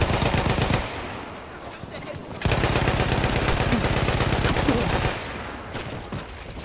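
An MG15 n.A. machine gun in a video game fires long rapid bursts on the Argonne Forest map: dense, loud, continuous gunfire with a short lull between two sustained volleys, then scattered shots and distant game noise.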